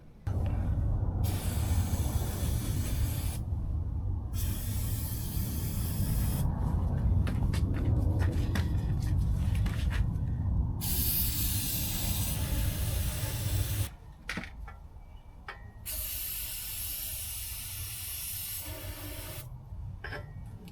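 Brake cleaner hisses from an aerosol can onto a car's 9-inch rear end in a series of long, loud bursts separated by short pauses.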